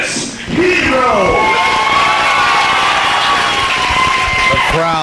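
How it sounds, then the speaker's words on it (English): A wrestling crowd cheers loudly for Chris Hero, a sustained roar of shouting, whoops and whistles after a brief quieter opening, with an announcer's voice sweeping through near the end. "The crowd making some noise."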